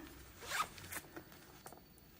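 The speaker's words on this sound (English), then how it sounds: "Oh wait, there's a zipper here." A zipper on a pen case is pulled open in a couple of quick, quiet rasping strokes, close up and alone.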